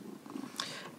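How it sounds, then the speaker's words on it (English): A cat purrs softly and steadily at close range in a quiet room, with a brief faint higher sound near the end. "And you might be able to hear him purring right now."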